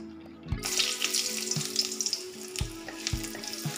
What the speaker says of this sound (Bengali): তেলটা গরম হয়ে গেছে, এবার আমি দিচ্ছি শুকনো লঙ্কা, দারচিনি একটু, গোলমরিচ আর এলাচ